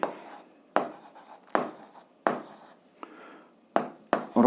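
Handwritten notes being scratched out with pen on paper while checking an eighth-grade algebra equation solution, coming in several short bursts separated by pauses, close and fairly clear.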